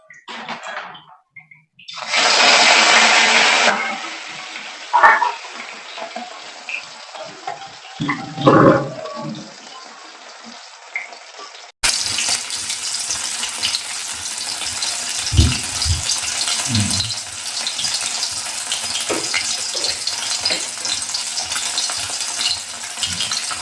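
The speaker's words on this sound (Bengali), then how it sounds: "আমি আবার একইভাবে পরের মাছটাও ভেজে নেব।" Rui fish pieces frying in hot oil crackle and sizzle continuously, with occasional clinks and scrapes of a spatula, the frying louder and denser in the second half.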